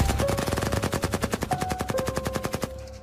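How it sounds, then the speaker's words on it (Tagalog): A rapid burst of gunfire rattles out in a fast, even string of sharp shots, loud and close, for nearly three seconds before cutting off abruptly. "sunod-sunod na putok ng baril mula sa team ni na Ira"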